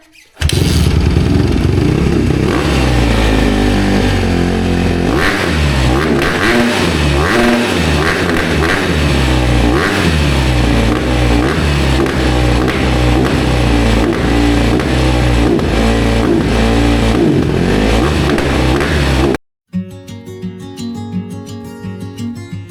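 A Honda CRF150R dirt bike engine idles and revs close by, loud and steady with rhythmic throttle blips for nearly twenty seconds before cutting out abruptly, then a brief restart rattle.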